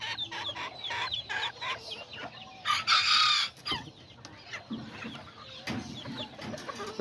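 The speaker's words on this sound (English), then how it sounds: "Look at that rooster." Azteca hens clucking with a rooster crowing nearby, a busy backyard flock of layered clucks and calls, the crow rising loud midway before the clucking carries on.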